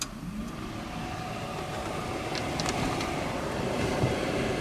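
A newly installed gas furnace in a VW Vanagon starts and runs, putting out a steady, even blower rumble that holds close and constant, with a few faint clicks along the way.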